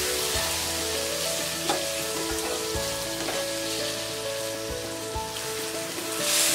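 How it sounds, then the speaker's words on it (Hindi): Tomatoes and onions fry in a pan with a soft continuous sizzle and occasional light stirring taps, fairly quiet and close, with no voices. "अब हम इसमें डालेंगे ये टमाटर, से टमाटर सॉफ्ट होने तक हम इसे फ्राई करेंगे।"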